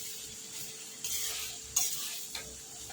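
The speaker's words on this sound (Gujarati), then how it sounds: "હવે એકદમ હળવા હાથે આપણે મિક્સ કરી લઈશું એને" A spoon scrapes and stirs through a bhaji pulav rice mixture in a pan, with soft rhythmic strokes and a faint sizzle underneath.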